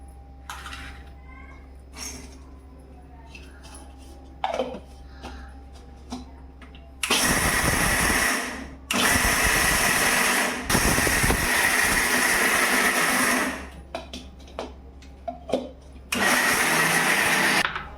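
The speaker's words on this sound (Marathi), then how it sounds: "शेंगदाणा लाडू करायला आता यांना बारीक करते मिक्सरमध्ये" An electric mixer grinder pulverises roasted peanuts and sugar in several loud, whirring bursts of a few seconds each. Quieter kitchen clatter and a brief hum come before the first burst.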